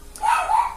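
A pet dog barks indoors, one or two drawn-out yelping barks close by and fairly loud, with no talking over them.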